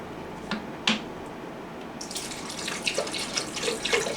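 Water pours from a tap into a shaker while a protein shake is being made, a steady splashing stream starting midway after a couple of faint knocks, close and moderately loud.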